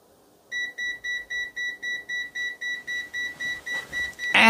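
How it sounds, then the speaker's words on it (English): Repeated electronic beeping from a Klein Tools MM720 multimeter's audible alarm when measuring over 10 amps of high current, about fourteen even pulses in steady rhythm, clear and close, ending with a brief burst of noise. "At the 10 amp, we are getting that audible alarm."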